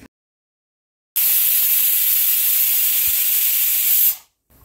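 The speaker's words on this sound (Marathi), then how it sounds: "हे कुकरचं झाकण लावायचं आहे आणि 3 ते 4 शिट्ट्या घ्यायच्या आहेत" A pressure cooker lets off a steady, loud whistle of escaping steam while potatoes boil in two glasses of water on a gas stove, hissing for about three seconds before cutting off, with no voices.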